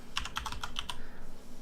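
Computer keyboard keys clatter in a quick burst of about eight close, crisp taps over roughly a second, then stop, with no talking.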